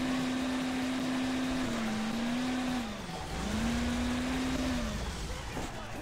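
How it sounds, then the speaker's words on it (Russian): A sports car drives in the Hill Climb Racing 2 mobile game, its engine a steady synthetic drone that dips and rises in pitch as the car crests hills, with constant background game sound throughout. "Кто опять там на спортивном каре едет за мной?"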